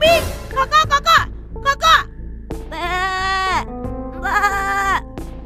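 Children imitating goats, letting out a series of loud, wavering bleats in quick bursts, several voices overlapping close by with short pauses between the cries.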